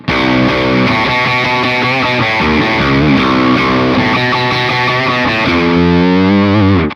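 An electric guitar, a Telecaster, plays sustained chords and notes through a 25% distortion setting, a moderately distorted, gritty tone, loud and continuous with no pauses.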